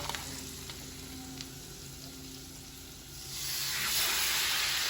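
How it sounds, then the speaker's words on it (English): A T-bone steak hits a pan of melted butter and sizzles loudly, the sound swelling to a bright, steady hiss in the final seconds after a quieter, lower start. "Throw it right in there. That's my T-bone in there."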